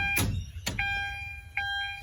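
A Mazda BT-50 2020+ key-in ignition reminder chime sounds with the ignition in accessory mode, a few sharp dings, close and clear, over faint background noise.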